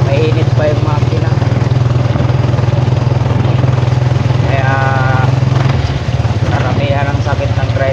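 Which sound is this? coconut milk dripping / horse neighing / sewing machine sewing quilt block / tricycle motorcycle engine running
tricycle motorcycle engine running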